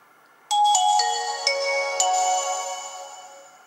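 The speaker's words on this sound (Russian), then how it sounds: "Вот так вот телефон включается." Startup jingle of a Nokia 5130 XpressMusic mobile phone: a few bright, chiming tones entering one after another and ringing out together, then fading slowly, loud and close in a quiet room.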